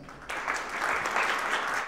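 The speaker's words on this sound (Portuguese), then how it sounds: "Uma salva de palmas para Joana Areias." An audience bursts into applause for a guest author on a talk show, a steady, dense wash of clapping that starts abruptly and holds at an even level throughout.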